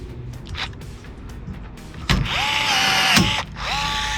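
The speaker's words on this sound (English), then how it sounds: "then you use your rivet gun or your handheld rivet tool" A rivet gun sets rivets on a roll cage for an RZR 200, giving a whirring motor buzz with sharp snaps as rivets pop, in short bursts close to the tool.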